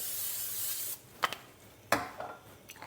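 Short bursts of cooking oil spray hit a pan where a thin egg crepe is cooking, two or three quick hissing puffs near the mic after a steady broadband hiss fades out.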